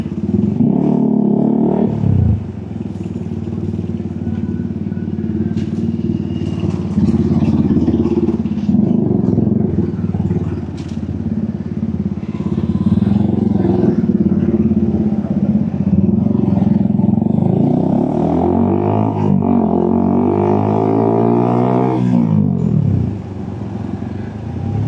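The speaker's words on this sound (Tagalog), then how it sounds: "heavy traffic na kayang makalusot ng motor" Motorcycles and cars crawl through heavy city traffic in the Philippines, a dense, continuous engine drone with rising revs and clatter close by, no talking.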